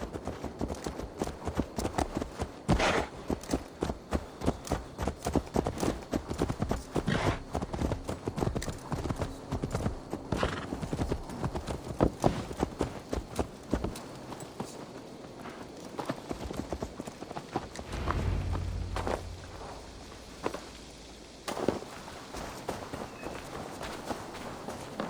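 Horse hooves clip-clop steadily in the video game Assassin's Creed Valhalla, a quick regular run of hoofbeats that slows near the end, with faint game ambience beneath.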